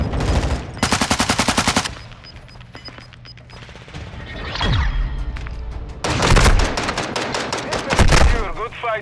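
Rapid bursts of automatic gunfire in a Call of Duty match, rattling volleys separated by quieter gaps, with a whooshing effect mid-clip and another loud burst near the end.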